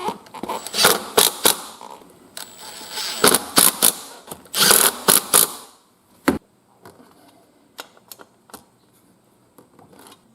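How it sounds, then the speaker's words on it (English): Ratchet of a socket wrench clicks in quick bursts while checking the tightness of wheel rim bolts on a Honda CT70 Mini Trail, loud close rattling runs early on, then sparse single clicks and metal taps with quiet gaps. "You will notice I use my socket and my wrench to double check the tightness of all the bolts."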